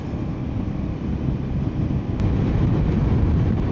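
Steady, close wind roar buffeting a motorcycle helmet visor while riding a Yamaha XMAX V3 scooter on a morning road, a continuous low rumble that swells slightly toward the end, with no talking.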